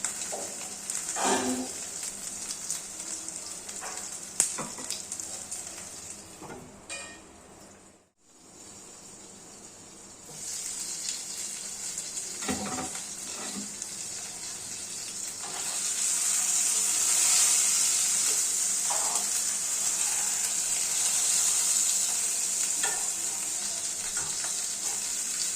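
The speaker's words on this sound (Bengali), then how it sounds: "দেখুন লাউ পাতাটা কেমন ভাজা ভাজা হয়ে গিয়েছে।" Rohu fish paturi wrapped in bottle gourd leaves fries in a covered pan with a steady bright sizzle. The sizzle swells louder toward the end, and brief stirring knocks are heard before a short pause near the middle.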